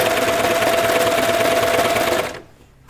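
A sewing machine hems a knit T-shirt with a loud, close, rapid mechanical whirr that runs steadily for over two seconds and then stops abruptly.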